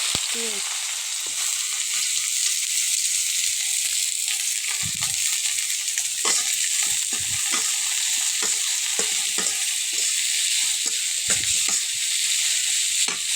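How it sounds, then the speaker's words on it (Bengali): Onions frying in oil in a wok, a steady loud sizzle throughout with scattered stirring scrapes and clinks, close up and with no one talking. "পেঁয়াজগুলো একটু ভেজে নিয়ে এই তো আমি পেঁয়াজগুলো ভেজে নিলাম"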